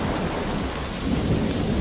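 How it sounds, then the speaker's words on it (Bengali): A cartoon thunderstorm sound effect of heavy rain and rolling thunder, a dense, loud, continuous roar filling the whole brief stretch with no voices. "হঠাৎ দমকা হাওয়া থেকে প্রবল ঝড় বৃষ্টি শুরু হলো।"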